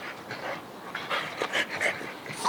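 Dogs panting rapidly and breathily at close range, with a few faint whimpers mixed in.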